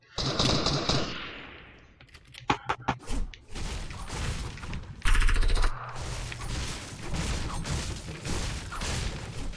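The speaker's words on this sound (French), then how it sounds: "ça tire dans tous les sens" Bursts of video game gunfire, sharp rapid shots and fusillades coming in clusters, loud and close, with a spell of heavy sustained firing and mechanical clatter in between.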